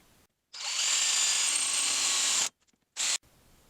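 A power drill bores an access hole in a fan clutch wrench, running in one loud, steady whine for about two seconds, then stopping, followed by a brief second burst.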